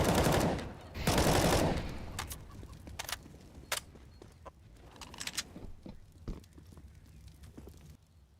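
Submachine gun fire in CS:GO during a competitive match, a couple of loud close bursts early on followed by scattered fainter shots and clicks further off.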